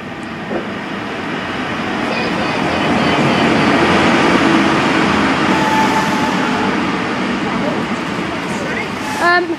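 Steady rumbling and rattling inside a moving train, a broad continuous roar with occasional squeaks, while someone talks.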